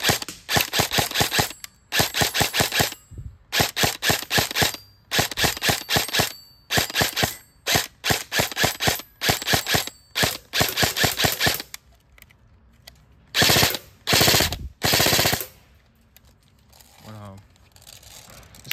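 An airsoft gun with stock trigger contacts and no MOSFET fires in rapid automatic bursts, sharp repeated cracks in quick strings with short gaps, near and loud, then a few slower isolated bursts toward the end.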